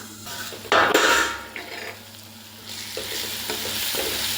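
Turkey berries and black nightshade berries fry in hot oil in a pan, giving a steady sizzle. A loud burst of stirring scrapes comes early, then the frying hiss goes on alone.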